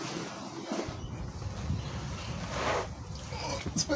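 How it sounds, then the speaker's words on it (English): Steady wind buffets the microphone outdoors during a plumbing job on a van conversion, with low rumbling gusts that swell and fade across the clip. "Windy today."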